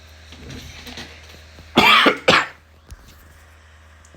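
A man with a chest illness coughs twice in quick harsh bursts, close to the microphone, in a quiet room with a low steady hum.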